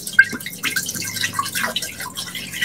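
Water trickling and splashing into a container being filled for a Thanksgiving turkey brine, with irregular drips and small splashes at moderate volume and no talking.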